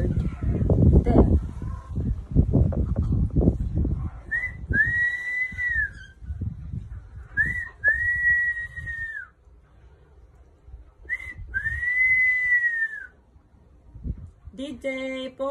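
A person talks briefly, then a bird answers with three clear rising-and-falling whistles, spaced apart, close by in a quiet setting.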